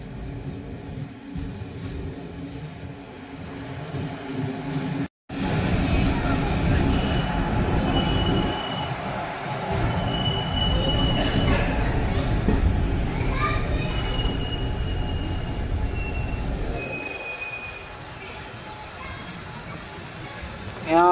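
The Bandikui–Bareilly passenger train rolls along the tracks with a loud, sustained rumble and rattle of wagons, while high, drawn-out wheel squeals rise over it in the middle and later stretches. Voices talk beneath it at times.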